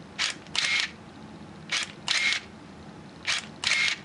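A Minolta Maxxum camera fires its shutter at f22 and 1/4 second, three times in a row, each a pair of crisp mechanical clicks about a quarter second apart, close and clear in a quiet room.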